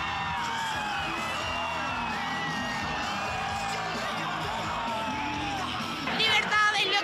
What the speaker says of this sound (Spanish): Libertad es lo que grita Javier Milei y todos sus seguidores acá en la ciudad de Córdoba.